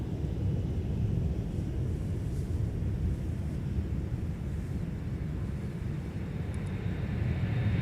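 Parallel airplane takeoffs at MSP airport give a continuous distant jet roar, a steady low rumble with wind-like noise and no voices.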